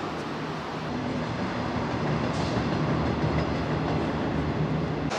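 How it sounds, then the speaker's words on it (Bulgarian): A passenger train rumbles steadily past near El Caminito del Rey gorge in Spain, a close, continuous roar with faint rhythmic clatter of wheels on track, no voices over it. "Абе, това е пътнически влак."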